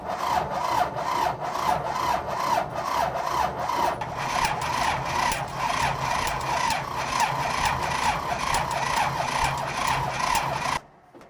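A Mack Granite truck's starter motor cranks slowly on a dead battery, a rhythmic grinding chug of even pulses lasting about eleven seconds before cutting off abruptly.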